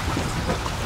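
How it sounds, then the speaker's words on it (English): Light drizzle falls at an outdoor music video shoot, a dense, even patter of rain close by across the whole short moment, with no voices. "Nice little drizzle."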